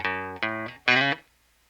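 Electric guitar plays a short, shortened version of an intro riff: open E, fretted E, open A and fretted A with a slide up, three clear sustained notes or chords then silence, alone and fairly soft.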